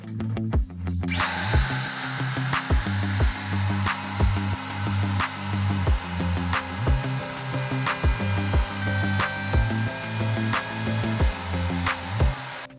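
A power router with a large, beefy bit cutting wood for tube amp transformer covers, a loud continuous high whine with rhythmic dips as passes are made in stages, steady and close throughout.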